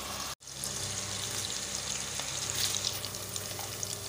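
Chopped onions sizzling and frying steadily in a pan while cooking masala bhindi (okra), a continuous close hiss after a brief cut near the start, with no voices.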